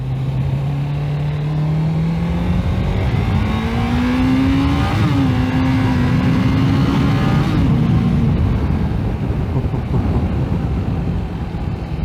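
A 1985 Kawasaki GPZ600R motorcycle engine pulls hard on an open ride, its steady droning note climbing in pitch as it accelerates, then holding high and loud under rushing wind throughout.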